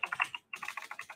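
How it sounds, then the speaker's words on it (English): Quick bursts of computer keyboard typing, close and fairly loud, with a short pause mid-way before another rapid run of keystrokes. "Excuse my typing."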